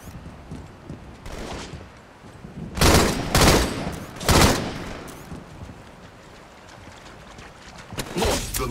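Rapid gunfire bursts in a video game shooter crackle out in several loud volleys, the heaviest clustered near the middle, with quieter gaps of low background between them.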